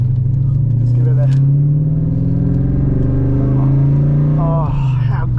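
A Holden VP SS V8 with a five-speed manual rumbles steadily close by with a deep, continuous engine note that rises slightly in pitch, heard from inside the car.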